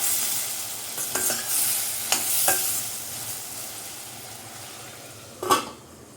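Curry ingredients for butter chicken cooking down in a pan, with a soft simmering sizzle and several sharp clinks and scrapes of a spoon against the metal, close up with no voices.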